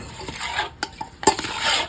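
Kawai fish (climbing perch) fries in an iron wok over a fire with a soft sizzle, broken by sharp clinks and scrapes of a spatula against the pan; nobody speaks.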